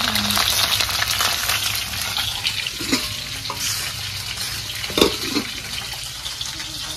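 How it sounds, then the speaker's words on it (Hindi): Fish fries in a pan with a steady, loud crackling sizzle throughout, and occasional stirring knocks and clinks rise above it. "मैं तो यहाँ पर मछली को फ्राई कर रही हूँ।"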